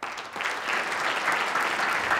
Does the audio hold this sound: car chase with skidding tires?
no